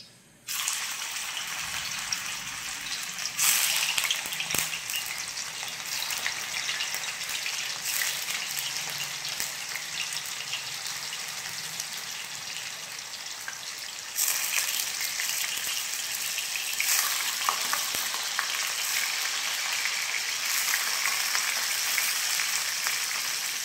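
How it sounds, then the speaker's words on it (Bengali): Lentil fritters (bora) fry in hot oil already used for potatoes, a continuous steady sizzle with a loud burst as the batter goes in, then bubbling hiss throughout. "ওই একই তেলের উপরে আমি এই বড়াগুলো ভেজে নেব।"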